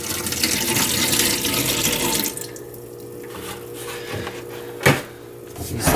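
Vinegar pours into a soaking container for de-rusting an antique Plumb hatchet head, a strong rushing splash at first that drops to a quieter trickle, with a brief knock near the end.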